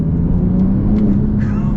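Porsche 911 Turbo S of the 992 generation accelerating hard, a steady loud engine drone heard from inside the cabin for the whole stretch, with brief faint voice sounds over it.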